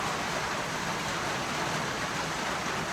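Steady broadband hiss of afternoon rain falling outdoors near the sea, constant and fairly loud for the whole stretch with no voices.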